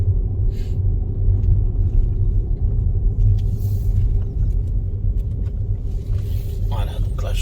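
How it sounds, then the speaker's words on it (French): A car rolls slowly along a narrow residential street at under 30 km/h, producing a steady, close low engine rumble throughout, with someone talking over it. "Comme c'est une rue où il y a beaucoup d'habitations et qui est assez étroite, donc là, je vais rouler à maximum 30 km/h"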